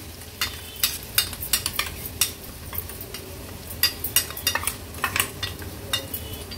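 Ground bombil (Bombay duck) paste goes into a pan of crushed garlic on a low flame for an Agri Koli seafood dish, sizzling softly under repeated sharp scraping stirs of a utensil against the pan.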